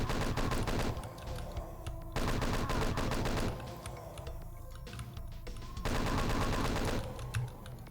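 Chaingunners firing chainguns in Doom 2 during a fight in a map with alcoves, rapid loud bursts of gunfire alternating with slightly quieter stretches of continued shooting, with no talk.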